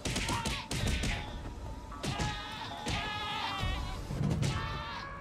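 Several bleats from a goat in the video game Minecraft sound in a Batman-themed add-on level, mixed with thuds and crashing impacts from the game.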